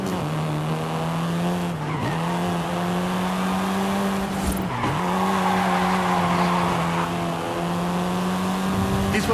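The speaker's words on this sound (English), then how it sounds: "This version is the Volkswagen Golf R" A Volkswagen Golf R in Forza Horizon 5 holds a steady, loud engine drone with a clear tonal whine, dipping briefly twice as the revs shift, joined by a screech of skidding tires.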